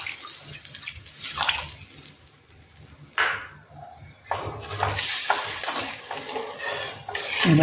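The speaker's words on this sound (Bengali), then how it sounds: "এবার এখানে জল দেবো" Water is poured into a pan of fried masala for fish curry, with splashing bursts and metallic clinks of the pan and utensils in a quiet kitchen.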